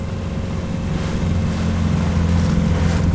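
A Suzuki DT9.9S outboard motor runs steadily during break-in on a Forward MX360FL inflatable boat off Russky Island, a constant close drone mixed with wind and water noise, no talking.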